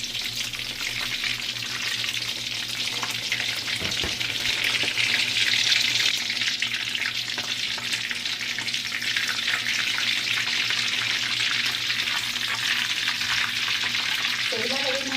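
Shrimp sizzle steadily in a hot frying pan, a dense continuous crackle holding at even loudness throughout with a few soft utensil knocks and no talking.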